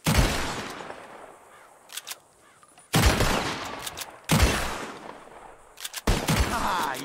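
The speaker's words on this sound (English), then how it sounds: "Whoever shoots more of these bottles wins. Just draw your gun and aim when you're ready" Four sharp revolver shots ring out in a Red Dead Redemption 2 bottle-shooting contest, each loud and close with a long echoing tail, spaced about one and a half seconds apart.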